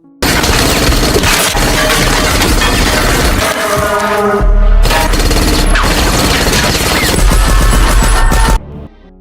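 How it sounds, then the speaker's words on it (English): Submachine gun fire from a film shootout, a dense, loud, continuous barrage of rapid shots. Crashing and shattering debris mixes in, with a brief break midway before the firing resumes. "Gonzalez's girlfriend appeared with her submachine gun, forcing both of them to take cover"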